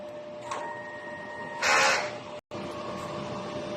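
Inkjet printer running a head cleaning cycle: steady mechanical hum with a faint click, then a brief louder whirring rush of the pump, a sudden cutoff, and the motor resuming its quieter drone.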